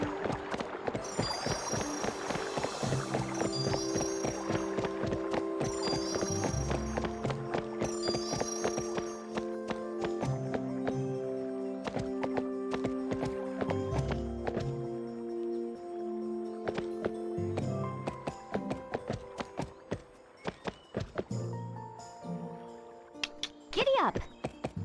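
A horse's hooves clip-clop at a steady pace in a Barbie horse adventure game on PlayStation 2, soft beneath bright background music by a lake.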